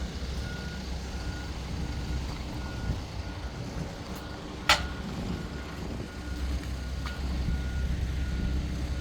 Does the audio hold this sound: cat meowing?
no